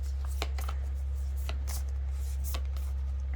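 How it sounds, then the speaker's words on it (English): Tarot cards are shuffled and slid around by hand in quiet, soft papery bursts over a steady low hum, with no voices. "So I'm going to shuffle these around."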